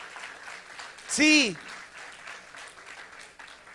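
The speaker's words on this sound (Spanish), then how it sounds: "Dele ese aplauso fuerte a su Señor." A church congregation applauds their Lord during a sermon, a faint, steady patter of clapping beneath one brief, loud shouted voice near the middle.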